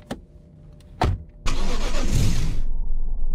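A police car in the video game Mimic Search: two short mechanical clicks, then the engine cranks and catches, settling into a steady, fairly loud idle.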